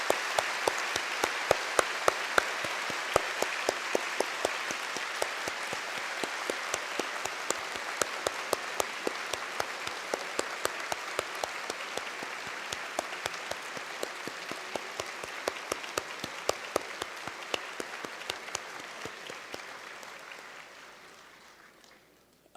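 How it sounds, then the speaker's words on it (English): A large audience gives sustained, dense applause for newly sworn lawyers at a bar oath-taking ceremony, steady and loud for about twenty seconds before tapering off at the end. "they deserve a long, resounding applause"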